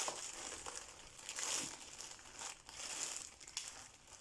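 Packaging crinkles and crumples continuously as a parcel is opened by hand, with bursts of crinkling rising and falling across the clip, fairly quiet and close, without speech.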